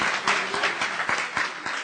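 A church congregation at a special meeting claps in a short burst with a few distinct, rhythmic hand claps standing out over the general applause.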